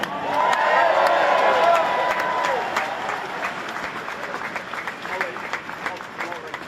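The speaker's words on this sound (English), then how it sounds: "give him a round of applause for that as well" A crowd gives a round of applause with cheers and whoops for a speaker. Loud clapping mixes with shouted cheering at first, then settles into steadier, slightly thinner applause.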